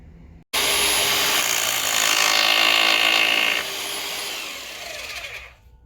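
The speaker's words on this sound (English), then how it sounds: "using the big old rotary hammer to put our pilot holes in the concrete" A large rotary hammer bores pilot holes into concrete, a loud, harsh, high-pitched grinding whine starting abruptly, running steadily for several seconds, then easing off and stopping, close by with no talk.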